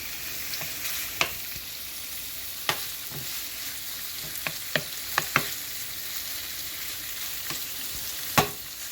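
Beef stirs and fries in hot oil in a pan on high heat, a steady close sizzle broken by occasional sharp scrapes and taps of the utensil, with no talking.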